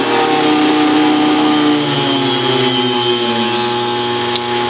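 A homemade power box drives an electric motor that runs steadily and loudly throughout, giving a continuous whirring drone with a faint shift in pitch near the end.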